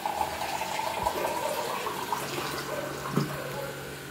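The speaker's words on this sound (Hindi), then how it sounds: "तो भाई सभी मम्मी को पे एक गिलास पानी डाल देंगे हम" Water poured from a glass, a soft continuous trickle running for several seconds with a small splash near the end, faint against light background noise.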